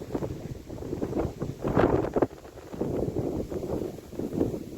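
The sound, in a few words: strong wind blowing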